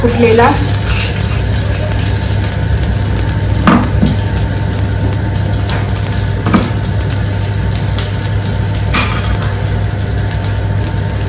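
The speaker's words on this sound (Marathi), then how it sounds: "त्याच्यानंतर मोहरी टाकते आणि इथे लसूण" Mustard seeds and garlic frying in hot oil, a steady close sizzle with occasional stirring scrapes and faint crackles running continuously throughout.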